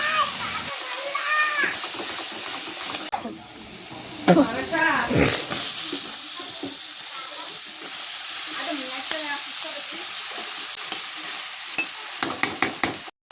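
Spices, green chilli and onion frying in oil, a continuous loud sizzle with repeated stirring and scraping in the pan, a voice speaking over it and a run of clinks near the end.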